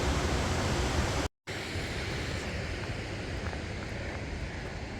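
Babbling brook at Nambe Falls in northern New Mexico, a steady broadband rush of flowing water, close and constant, with one abrupt brief dropout near the start.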